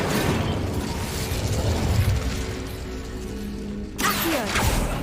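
A fiery Incendio spell burst in Hogwarts Legacy, a sustained roaring rush with crackling texture that cuts briefly near the end, then flares up again.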